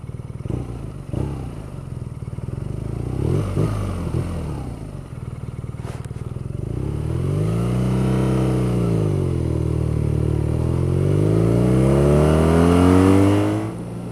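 A BMW R nineT boxer twin motorcycle rides past up close, starting with clatter, then the engine revs climb and fall through gears in a loud, steady drone.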